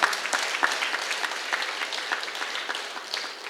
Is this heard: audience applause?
yes